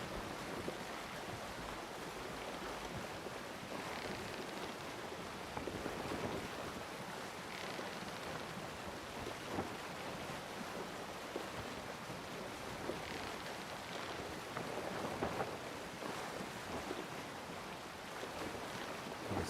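A ship sailing on the sea in Sea of Thieves gives a steady wash of waves and wind that holds evenly throughout, with no voices.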